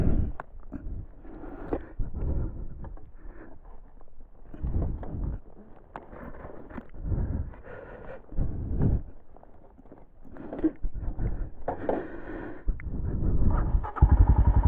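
A motorcycle engine turns over and catches, running unevenly with rough sputtering bursts and revs that rise toward the end, fairly close.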